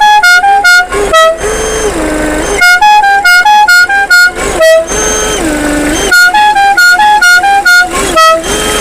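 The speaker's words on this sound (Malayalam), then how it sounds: "അതുപോലെ നമുക്കിവിടെ വണ്ടിക്ക് എയർ ഹോണൊക്കെ വരുന്നുണ്ട് കേട്ടോ. ഞാൻ അതിൻ്റെ സൗണ്ട് ജസ്റ്റ് ഒന്ന് കേൾപ്പിച്ച് തരാം." Air horn on a modified, lifted 1997 Hindustan Contessa blasting a loud, close musical tune of rapid staccato toots broken by longer sliding notes, repeating in cycles with no talk.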